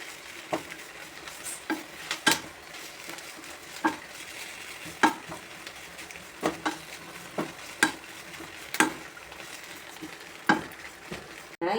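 Curry leaves stirred and dry-roasted in a pan for an Andhra-style curry leaf chutney: a soft, steady sizzle with repeated sharp scraping clicks of the spoon about once a second, close and fairly quiet, with no talk.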